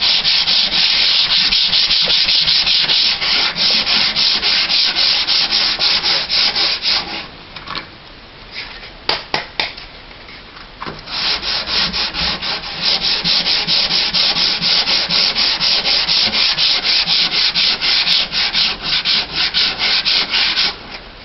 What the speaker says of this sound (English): as soon as you see the metal, you want to stop sanding